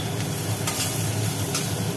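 Young jackfruit frying for sukto, stirred in a hot pan with a steady crackling sizzle and a few short scraping strokes of the spatula, close and alone.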